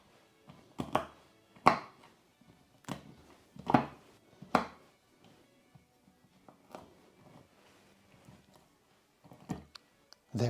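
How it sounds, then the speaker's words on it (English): Almonds chopped with a knife for an almond cake, giving sharp, irregular knocks of the blade on a board in loose clusters, close and fairly loud, with quieter gaps between bursts. "I've given my nuts a good chopping."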